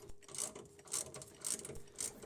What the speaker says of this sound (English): we're going to take a 10mm socket and unscrew only the first bolt on the plastic protective cover